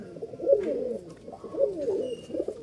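Pigeons kept as flying birds coo in a low, rolling rhythm, two main swells of throaty calls close by, with no talk over them.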